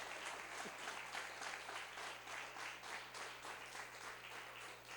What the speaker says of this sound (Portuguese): Você pode aplaudir ao Senhor pela vida do pastor Carlos Venâncio?